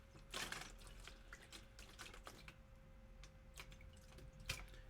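Water drips slowly in a quiet indoor space, each drop a faint tick landing at uneven intervals, with a low steady hum underneath.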